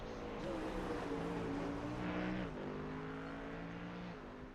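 A Mustang GT3 race car at full throttle on an oval in iRacing produces a steady, loud engine roar that holds a sustained tone with a few shifts in pitch, heard without talk.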